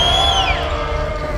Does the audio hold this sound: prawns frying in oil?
no